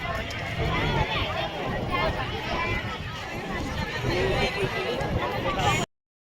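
A busy Sunday crowd at the Omkareshwar boating area, a dense hubbub of overlapping voices and footsteps close around, steady and loud throughout before cutting off abruptly near the end.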